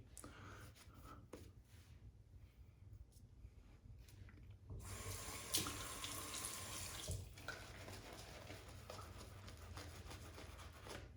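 Water is added to soap lather from De Vergulde Hand in a short, quiet burst of running water that lasts a couple of seconds, between faint handling noises.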